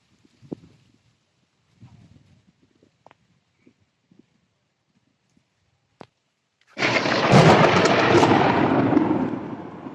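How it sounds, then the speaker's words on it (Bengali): Scattered faint thumps and clicks, then a sudden loud, sustained rumbling crash of close thunder in a rainstorm with strong wind, rolling on to the end. "যে জোরে ঠাড়া পড়ছে মনে হয় যে আমার মাথায় পড়বে।"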